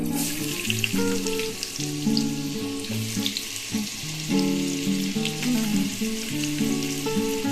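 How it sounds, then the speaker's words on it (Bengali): Potato and mixed vegetables fry in a hot pan with a loud, continuous sizzle, close up, with occasional stirring scrapes and a watery hiss running through it, and no voices. "এই সবজিগুলো আমি সব দিয়ে তারপর আমি ভাজবো আলুটা দিয়ে দিলাম"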